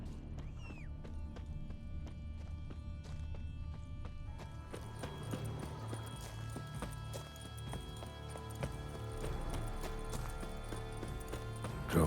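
Roach, the horse in The Witcher 3, gallops with rapid, rhythmic hoof clip-clops, close and steady throughout, over low game ambience that thickens midway with added rustling and clatter.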